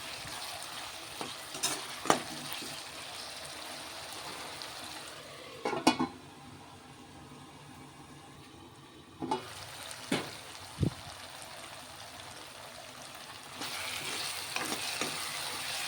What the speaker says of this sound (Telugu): అల్లం వెల్లుల్లి పేస్ట్ కూడా ఫ్రై అయిపోయిందండి